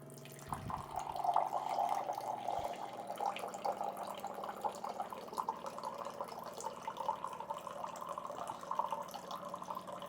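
Filtered water from a Waterdrop K19-H countertop purifier streams into a drinking glass, a steady close trickle running about ten seconds after a couple of soft clicks at the start.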